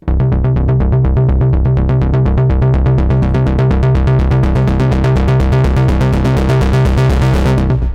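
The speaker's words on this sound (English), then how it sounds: "bass stronger is a very fat, square and saw bass, which can sound something like this." Fat synth bass blending square and saw waveforms, a Bass Stronger preset from a CamelPhat producer pack, pulsing in a steady, driving rhythm of loud repeated notes for eight seconds before cutting off, alone with no voices.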